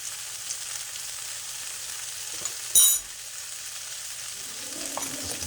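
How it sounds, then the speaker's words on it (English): Chicken and vegetables for lo mein sizzle steadily in a hot frying pan, a soft, even hiss heard up close and alone, broken by one brief louder crackle partway through. "Beautiful sound. This nice and sizzle sound."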